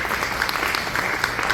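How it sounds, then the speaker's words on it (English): Brief burst of warm applause from a law enforcement conference audience welcoming a keynote speaker to the podium, dense steady clapping with a few crisp individual claps. "can you give a round of applause for that?"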